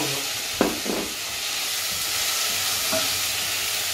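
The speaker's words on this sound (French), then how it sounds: "Hop, on met le thon et on mélange." Tuna stirred into cooked onions in a pot for tuna pasta, a steady hiss of gentle frying with a couple of spoon scrapes near the start and one more later, close and without talk.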